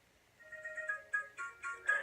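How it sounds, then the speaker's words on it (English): A novelty phone ringtone called Asian Sister Calling, starting with a soft melodic tone that builds into brighter rhythmic synthesized notes, fairly quiet and heard alone. "So here's Asian Sister Calling."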